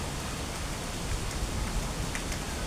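A garden fountain at Waterfall Garden in Singapore gives off a steady, close, dense splashing rush of falling water, even and unbroken throughout.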